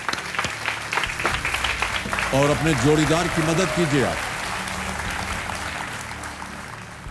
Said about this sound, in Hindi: और तालियों के साथ आपका हम स्वागत करते हैं